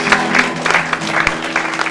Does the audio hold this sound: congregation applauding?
yes